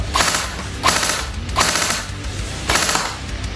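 A Double Bell SCAR-H airsoft BB gun fires in short automatic bursts, four rapid mechanical rattling strings spaced under a second apart, close and fairly loud with gearbox clatter between shots.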